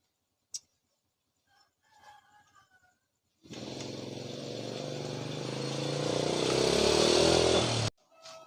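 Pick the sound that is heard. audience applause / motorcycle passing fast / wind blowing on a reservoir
motorcycle passing fast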